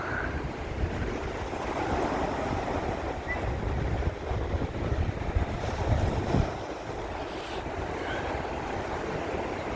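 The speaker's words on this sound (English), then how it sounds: "Tide going out fast." Sea waves washing onto Blackpool's Central Beach as the tide goes out, a continuous rushing surf mixed with wind buffeting the microphone, steady throughout with a brief louder gust near the middle, no speech.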